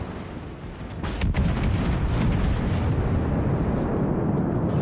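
Naval warship guns firing in World of Warships, heard as a continuous, dense low rumble of heavy booming salvos that stays loud and steady for several seconds with no talk.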